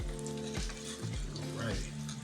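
A cheesesteak egg roll frying in hot oil, a continuous loud sizzle and crackle with a few soft bumps as it is turned over, a low voice heard faintly underneath.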